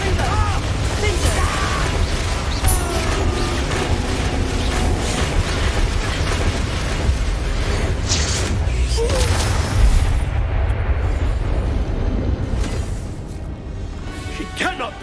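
Fiery Confringo blasting spells from Hogwarts Legacy boom and crackle in a continuous loud barrage under the game's spoken dialogue and combat noise.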